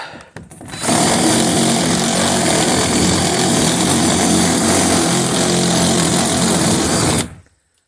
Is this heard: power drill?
yes